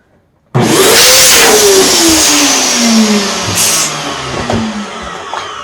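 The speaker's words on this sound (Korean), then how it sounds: "지금 들으시는 소리는 플라워 인플레이터의 소리예요." A balloon inflator starts abruptly and runs steadily with a loud whooshing hum, its pitch sliding slowly downward as it strains.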